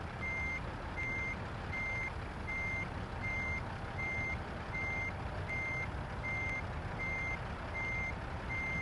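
A large truck's steady reversing beeps repeat at an even pace over a constant rumbling engine drone.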